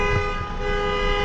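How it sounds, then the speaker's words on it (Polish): A car horn sounds as one steady, sustained tone that lasts the whole moment, with no voices, heard from a campervan on a road trip. "Nie wiem dlaczego oni trąbią."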